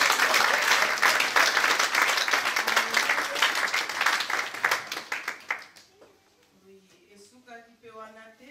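An audience at a worship night applauds loudly and steadily for several seconds before the clapping dies away, then a voice speaks.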